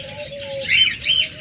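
Pet violet-masked lovebirds chirp in two short, bright bursts close by, over a faint low tone.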